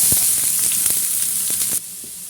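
Sliced onion dropped into hot coconut oil already holding cumin, cinnamon, cardamom and curry leaves for a beef dish, a loud close hissing sizzle with light crackles that suddenly drops to a quieter sizzle near the end.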